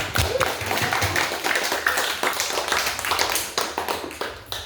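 Audience claps for a student presenter after a talk on KCL fertilizer, a loose burst of individual hand claps close by, uneven and fairly quiet, continuing for several seconds.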